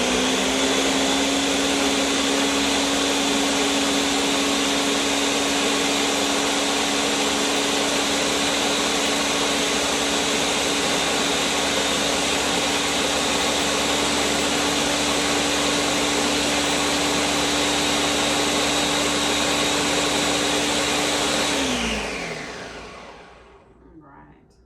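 Blender motor running steadily at medium speed while blending sea moss gel, a loud, even whine with a constant pitch that holds for about twenty seconds, then spins down and fades out.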